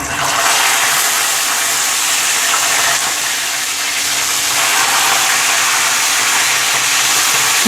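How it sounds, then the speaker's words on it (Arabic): A local rooster being fried in butter gives a loud, steady sizzle and hiss that runs unbroken throughout, with no voices over it. "بس انا ولادها عايزين احمرها في الزبده"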